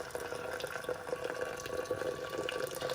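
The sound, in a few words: boiling water poured over barley and honey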